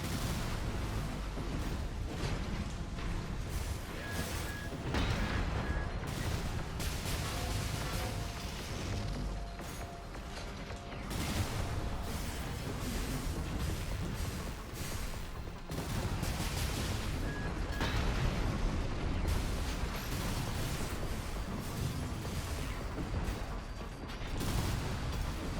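Weapons firing in the mecha video game Armored Core: dense, rapid bursts of mechanical shots and impacts keep going throughout, with loud repeated cracks, heavy booms and whirring machinery, and no talking.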